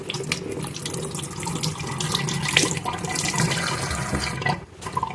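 A ripe fruit picked from a tree being washed under a running tap, with a steady close rush of water that shifts as the fruit is turned and then briefly cuts off near the end.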